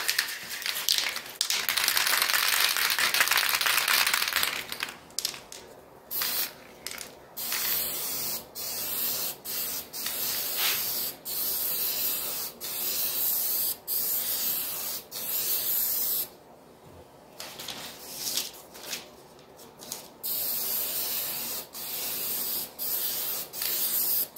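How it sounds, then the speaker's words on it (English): A spray can of primer hisses in repeated bursts, a long opening spray followed by shorter blasts and brief pauses, loud and close with no talking. "spray a little primer on it."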